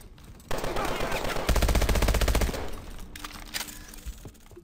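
Loud, rapid automatic gunfire in the futuristic shooter Call of Duty: Advanced Warfare, one sustained burst followed by a few scattered shots over game ambience.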